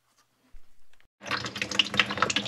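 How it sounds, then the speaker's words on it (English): Water gushes from an opened drain pipe backed up with hair, a steady splashing flow that starts abruptly after a brief knock and continues loud and close. "let's see if I can open that pipe up and pop the drain"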